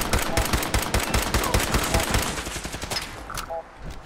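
Rapid automatic gunfire in Fallout 4, a fast rhythmic burst of shots for about two and a half seconds that then thins to scattered fainter sounds.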